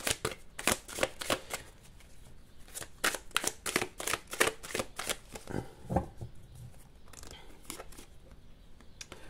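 Tarot cards are shuffled and drawn by hand close up, giving a run of quick riffling, papery bursts with brief pauses in between, followed by softer slides and taps as cards are laid down. A voice is heard faintly.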